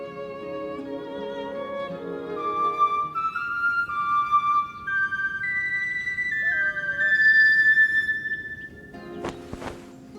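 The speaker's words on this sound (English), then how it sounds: "It's a bone whistle." A bone whistle played in the fantasy video game Masquerada: Songs and Shadows, giving a melodic run of sustained, clear tones over a low ambient music bed, ending in a brief sharp burst.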